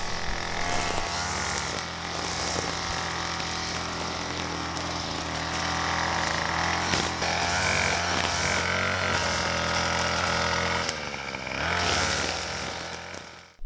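Petrol string trimmer and lawn mower cutting grass in an off-grid garden, a steady dense engine drone with cutting noise running without break throughout.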